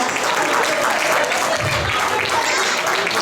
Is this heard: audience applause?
yes